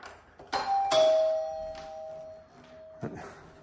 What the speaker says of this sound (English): I'm going to show you the old school doorbell here